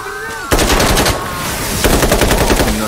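Loud, close bursts of automatic gunfire in Insurgency Sandstorm, with a rapid volley at about half a second and another burst near the end, over a quieter rumbling battlefield bed.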